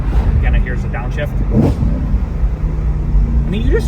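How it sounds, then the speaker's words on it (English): Engine of a 2011 BMW E92 M3 GTS on a downshift, a loud steady rumble from inside the cabin with brief pitch swings as the revs change, partly under someone talking. "Again, here's the downshift."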